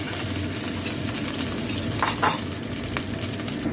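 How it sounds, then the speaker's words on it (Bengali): Prawns and potatoes frying together in oil in a pan give a steady, close crackling sizzle, with a few brief scraping stirs partway through. "আলু আর চিংড়ি মাছটা আমি একসঙ্গে ভেজে নেবো এখন, এবার ভাজতে থাকি।"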